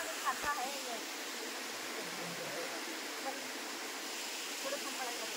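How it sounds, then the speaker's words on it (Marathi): A waterfall's rushing water makes a steady, even broadband roar that stays soft and constant, with no voices over it. "पाण्याचा आवाज कसला भारी होतो पण तुम्हाला आवाज ऐकवतो मी धबधब्याचा"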